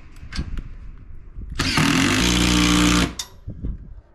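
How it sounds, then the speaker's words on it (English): A power drill whirs loudly for about a second and a half, pre-drilling roof panels on a house build, starting and stopping abruptly, with quieter knocks and handling noises before and after. "we'd better break the drill out and pre-drill"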